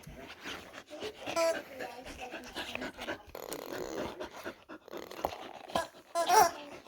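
A husky pants in quick, breathy bursts close by, with occasional whimpering and growly noises. Indoors at night, people talk over and between the panting.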